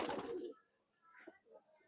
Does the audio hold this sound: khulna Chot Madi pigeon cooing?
yes